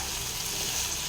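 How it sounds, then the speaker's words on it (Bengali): Hot water pours into a pan of Maharashtrian gawarphali (cluster bean) vegetables that are cooking, making a brief, close, broad splashing hiss. "আমি এবার একটু গরম জল দেবো"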